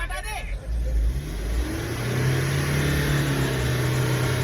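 Mahindra Thar and Mahindra Scorpio SUVs launching side by side in a drag race, engines roaring and revving up steadily and loudly while someone talks excitedly over them.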